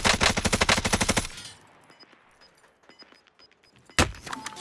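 A fast, loud burst of automatic gunfire in Call of Duty: Modern Warfare, rhythmic rapid shots that cut off into quieter distant game ambience before another sharp shot near the end.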